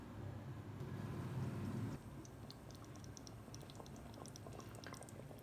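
Mutton kunna with chopped ginger and red chillies simmers in a covered pot on dum, giving a steady close bubbling hiss that is heavier for the first two seconds, then settles into softer crackle with small pops.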